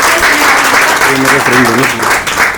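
Close, full applause from an audience at a Books and Beyond literary event in Faridabad welcoming author Siniwali Sharma, clapping steadily while a voice talks over it.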